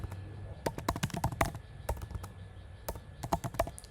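Rapid keystrokes on a computer keyboard while placeholder text is typed into an HTML input field, with irregular bursts of close, crisp clicks and short pauses between words.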